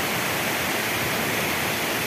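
Steady broadband rush of the Cañaveralejo river flowing, a continuous even hiss of moving water with no breaks, fairly close and alone without voices.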